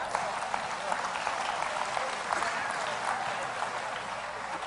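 A crowd claps steadily and densely for several seconds, a continuous wash of applause with no pauses.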